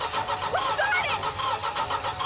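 A car engine cranks and catches, settling into a steady mid-pitched running hum with slight pulsing, close and clear, with no talk over it.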